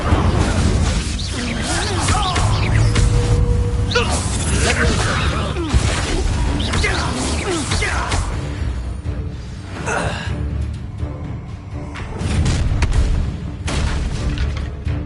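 Incendio fire spell cast in the PS5 game Hogwarts Legacy, a loud burst of booms and whooshing effects over busy combat sound and music, with brief voices mixed in.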